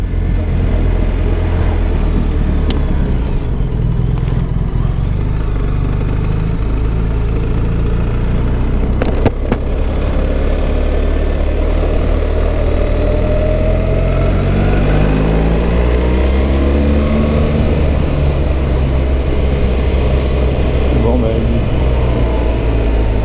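A BMW R1300GS motorcycle with an Akrapovic exhaust hums steadily up close, and its pitch rises and sweeps when the throttle is opened partway through. Voices talk over the engine.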